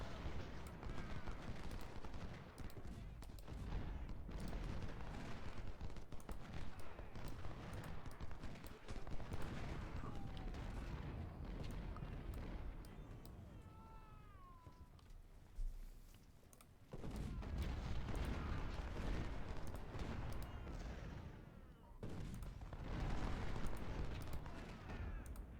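Long-range cannon fire rumbles through an Ultimate General: Civil War battle near Richmond, a dense, continuous roll of booms and musketry with steady loudness, dipping briefly before resuming at full intensity.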